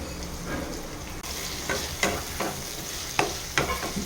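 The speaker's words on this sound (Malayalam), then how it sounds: "നമുക്ക് നല്ലോണം ഒന്ന് വഴറ്റിയെടുക്കാം നമുക്കൊന്ന് തുറന്നിളക്കി ഇട്ട് കൊടുക്കാം" Brinjal sautés in a pan with a steady frying sizzle, broken by several clear scraping strokes of a spoon stirring the pieces, close and without talk.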